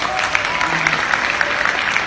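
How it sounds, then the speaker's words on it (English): Audience applause at a senior high school graduation ceremony, steady clapping from a crowd filling the short stretch without any speech. "Please give a round of applause for my mom."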